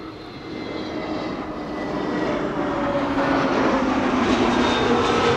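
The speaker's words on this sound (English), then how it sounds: "But we do get the A380" An Airbus A380 jet airliner at Amsterdam Schiphol airport gives a steady, broad engine roar that swells gradually louder over several seconds, with no voices.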